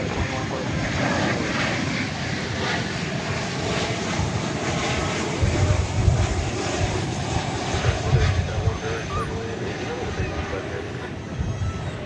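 An airliner flying in from Austin, Texas passes near a Dallas airport, a broad steady jet roar with wind buffeting that swells slightly midway and then fades.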